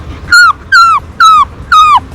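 A young schoolboy imitates a dog or puppy with his voice: four whining yelps, evenly spaced and close, each a high, falling whimper like a pup crying, with no talk between them.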